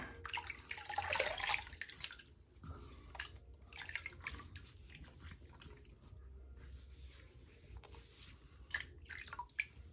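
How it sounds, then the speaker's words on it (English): Rinse water in a shaving bowl, with soap lather melting away, trickles and drips softly, giving faint, irregular splashes and droplets against a quiet background. "So my rinse water from my bowl has the soap in it, the lather, melting away."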